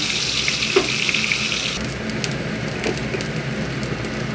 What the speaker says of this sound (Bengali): ডিম ভাজার তেলেই আমি রান্নাটা করে নেব। আদা, পেঁয়াজ, রসুনের পেস্টটা আমি দিয়ে দিলাম।